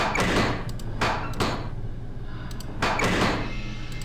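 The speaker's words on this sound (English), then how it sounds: "Every time I hear that slam" Heavy slams in the Nancy Drew: Treasure in the Royal Tower video game, loud close impacts that come in a quick pair, then a single hit after a pause, each followed by a brief decay.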